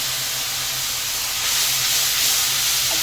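Hilsa fish pieces dropped into a hot pan of chili, salt, cumin-chili paste, turmeric and a little water set off a loud, steady sizzling hiss that swells slightly partway through and continues unbroken.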